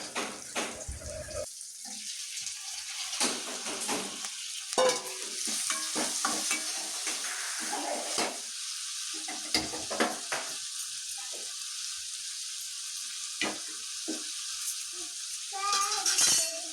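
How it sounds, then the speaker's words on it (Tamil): Crab pieces sizzle and fry in a pan while a utensil stirs and scrapes, with clinks and clatter over a steady hiss, close by and fairly loud. "நண்டு ஒன்று ஒன்றா போட்டு வதக்கிக்கிட்டே இருங்க. நல்லா வதக்கணும்"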